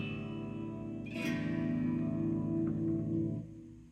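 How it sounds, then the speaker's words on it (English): A Fender Mustang LT50 amplifier on its clean preset rings out a sustained guitar chord drenched in heavy reverb and echo, the note swelling, then decaying with a long hollow tail. "they notice there's a bunch of echo in there too, or a reverb, or whatever you want to call it"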